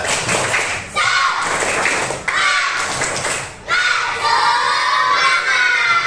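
A classroom of children performs a rhythmic clapping cheer, shouting together in bursts between claps, loud and close, with brief pauses separating three rounds.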